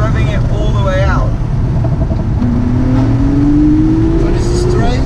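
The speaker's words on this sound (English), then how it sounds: "This is full pushing. Yeah, that's revving it all the way out." Car engine revved at full throttle from inside the cabin, a steady loud drone with a rising engine tone and wind noise, as people talk over it.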